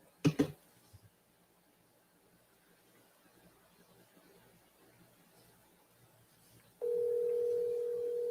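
A telephone dial tone while a call is being placed. A couple of sharp clicks come first, then quiet line hiss, then a steady dial tone that starts late and holds to the end.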